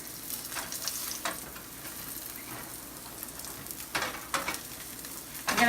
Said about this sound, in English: So we fried all of our cottage cheese patties